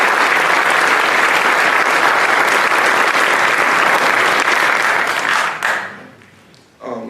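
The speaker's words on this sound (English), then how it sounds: "So a big round of applause for everyone here today" An audience at a school athletic signing day breaks into loud, dense applause lasting several seconds, then abruptly fades to a few scattered claps and quiet.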